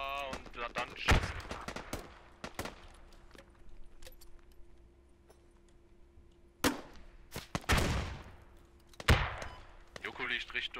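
Gunfire in the tactical shooter Squad: several sharp, loud shots ring out in scattered bursts, some close and some more distant, separated by quieter stretches of background noise.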